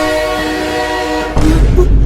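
A train passes close by, a steady horn-like tone with strong harmonics giving way to a louder rumbling rush of railcars, set in a comedy skit.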